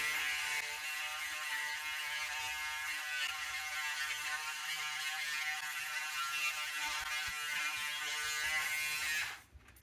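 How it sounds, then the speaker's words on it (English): A Braun Series 7 electric shaver buzzes steadily and close up as it runs over a face, holding an even whirring drone for nearly ten seconds before cutting off abruptly near the end. "So now we're done with that side of my face with the Braun Series 7."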